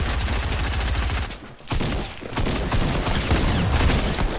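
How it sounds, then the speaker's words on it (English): Rapid bursts of gunfire in a shooting video game, loud and close, several volleys with a brief gap before the shooting resumes. "I just heard like somebody shoot"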